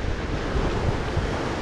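Ocean waves surge and break around a sailboat (a Rival 41) running fast downwind, a continuous loud wash of surf mixed with wind buffeting the microphone, with no talk.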